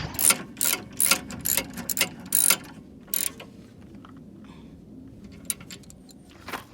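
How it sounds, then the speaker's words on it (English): A 17mm ratchet clicks rapidly in bursts while tightening rear brake caliper bolts, close up, with short pauses between strokes and a few isolated clicks at the end. "Then use a regular 17mm ratchet to tighten those bolts."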